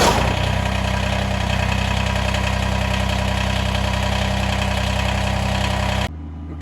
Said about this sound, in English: I got the tractor outside warming up